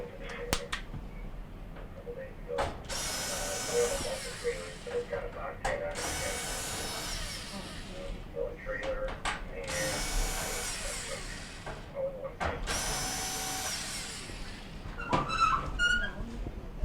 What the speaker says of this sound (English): we can remove the Phillips screws that hold the front plate on